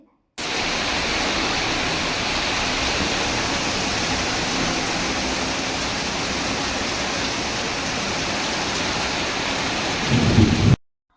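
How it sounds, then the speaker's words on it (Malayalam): Heavy rain pours down steadily in a dense, loud roar that stays constant throughout, with no voices. "പുറത്ത് ഒടുക്കത്തെ മഴയാണ് ഗസ് പെയ്യുന്നത്"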